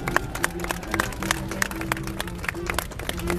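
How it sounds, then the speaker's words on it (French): An audience on a quay in Brest applauds the workers: scattered, moderately loud clapping in an outdoor crowd, with a steady low hum and tonal noise running beneath. "je propose que vous les applaudissiez un petit peu"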